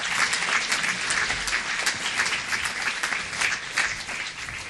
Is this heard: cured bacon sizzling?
no